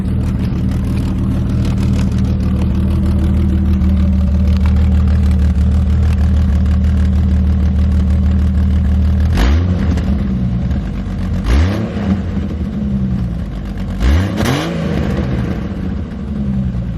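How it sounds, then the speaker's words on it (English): Jeep engine with part of its exhaust removed, idling loudly with a deep, steady rumble, then blipped in three sharp revs that rise and fall, close by. "I also took part of the exhaust off, so it's loud as hell now."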